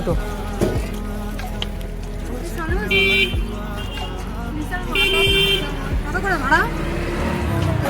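Ride on a toto electric rickshaw through busy town traffic, a continuous road rumble with repeated nearby car and rickshaw horn toots and honks, passengers chatting over it.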